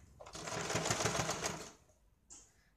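A sewing machine stitches along the edge of a blouse in a quick, even whirring run of needle strokes that lasts over a second, then slows and stops, followed by a short mechanical click.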